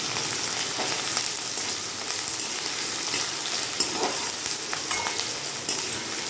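Onion and green chili sizzle steadily in hot oil with cumin seeds for a vegetable curry, a continuous dense crackle with occasional stirring scrapes and small pops, close and alone without talk.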